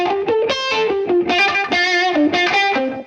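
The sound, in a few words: guitar lead heavily distorted with Saturn 2 distortion preset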